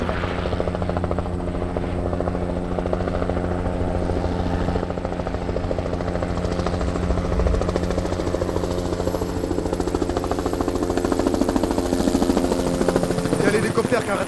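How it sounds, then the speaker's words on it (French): A helicopter circling over a city neighbourhood, a loud continuous rotor drone with steady throbbing blades lasting throughout, while people talk in French nearby. "Il y a l'hélicoptère qui n'arrête pas de tourner."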